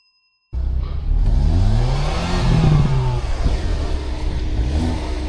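A VW Golf 7.5 GTI TCR and a Hyundai Kona N launch in a rolling 400 m drag race. The engines burst in loudly after a brief silence and climb through rising revs, with a whoosh between gear changes and close, sustained roaring.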